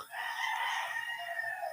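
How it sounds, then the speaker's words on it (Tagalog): A rooster crows once on a foggy morning, a single sustained call heard from a moderate distance against a quiet background. "tuktulaok ng manok"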